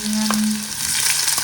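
Onion fries with chilli and mustard seeds in a hot pan, a loud, close, continuous sizzle and crackle that lasts throughout, with no talking.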